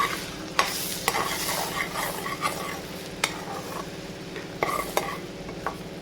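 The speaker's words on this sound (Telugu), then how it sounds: "ఆ పేస్ట్ వేస్తున్నానండి ఇందులో ఇది కూడా బాగా కలుపుకొని పచ్చివాసన పోయే వరకు" Ginger, garlic and green chili paste fries in a pan with oil and a little ghee for egg dum biryani. A steady sizzle runs under repeated clinking strokes of a spoon stirring against the pan.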